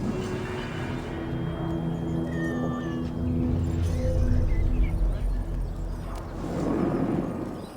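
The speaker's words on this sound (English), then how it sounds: "Every longship needs a brave cat for luck, and for the rats." A cat meows aboard a Viking longship in the video game Assassin's Creed Valhalla, a few short, faint meows at the start over a loud, rumbling ambient bed.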